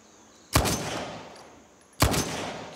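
Two loud, close gunshots from a custom firearm in the video game Uncharted 4, each a sharp blast with a ringing tail, spaced about one and a half seconds apart with no talk.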